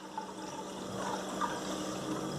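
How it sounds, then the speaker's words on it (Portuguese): Water streams quietly and continuously into a bowl at a tabletop, with a soft, steady pouring trickle at low volume and nobody speaking. "Vou colocar a água aqui na vasilha"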